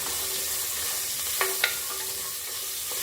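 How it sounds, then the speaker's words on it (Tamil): Garlic browns in a pan with a constant sizzling hiss, interrupted by two quick metallic clinks of a spoon near the middle, no talking. "பூண்டு கொஞ்சம் நல்லா ப்ரௌனாக வதங்கட்டும்"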